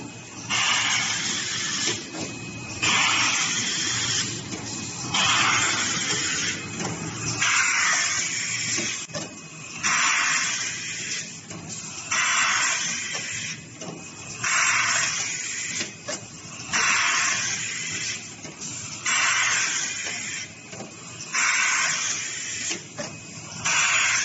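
A cotton swab machine with zipper-bag packing runs steadily, its hissing, clacking cycle repeating at a regular rhythm of about two seconds, loud and close.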